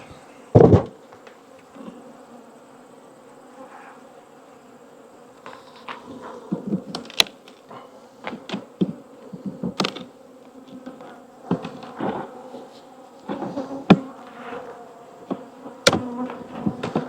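Honey bees buzz steadily around an open hive outdoors, a close, continuous drone with scattered knocks and clatters of hive equipment breaking through.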